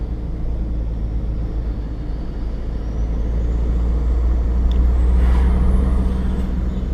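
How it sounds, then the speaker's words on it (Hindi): Heavy road traffic rumbles steadily with a deep engine drone, trucks passing close and a rising whine with a brief hiss near the end, no voices. "बहुत ज़्यादा ट्रैफिक है इस रोड पे ना।"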